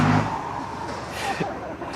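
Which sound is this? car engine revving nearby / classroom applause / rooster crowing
car engine revving nearby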